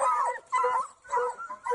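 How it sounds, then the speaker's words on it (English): A pack of hounds chasing a fox gives out a bunched chorus of excited whimpering yips and cries, close and loud, rising in repeated surges with short dips between. "Scenting blood, a pack of hounds close in on their prey."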